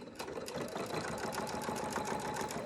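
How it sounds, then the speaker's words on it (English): A sewing machine stitches a fabric face mask in a steady, rapid run of needle strokes, close and fairly loud, with no pause. "So we're going to start sewing."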